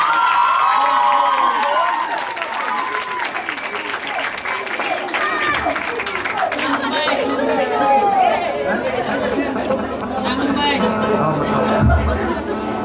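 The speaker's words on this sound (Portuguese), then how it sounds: "Uma grande salva de palmas." Applause and cheering from an audience, loud at first then mixing with lively chatter, shouts and children's voices as the clapping continues underneath.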